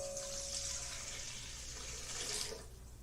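Water runs steadily into a 7-quart stand mixer bowl holding yeast and sugar, a continuous soft splashing pour lasting a few seconds before it tapers off, with no voices.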